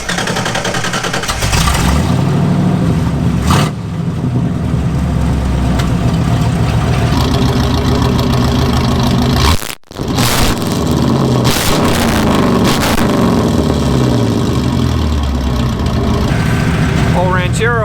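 A 1964 Ford Ranchero engine runs with a straight-pipe exhaust from the headers, dumped behind the rear axle. It gives a loud, raw, rumbling drone with lumpy pulses and swelling revs, close up, with one brief cut near the middle.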